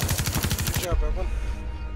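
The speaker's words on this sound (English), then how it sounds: "I'm really liking this Castle shotgun" Rapid gunfire rattles from a Castle shotgun in the Rainbow Six Siege video game, a fast close burst of repeated loud blasts lasting about a second, then a brief mechanical clatter fading into a low rumble.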